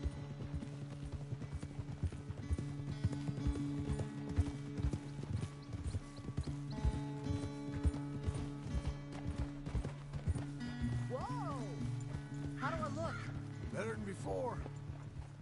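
Horse hooves clip-clop at a steady trotting rhythm in Red Dead Redemption 2, close and clear, with tack creaking and a brief neigh toward the end, while people talk over the riding.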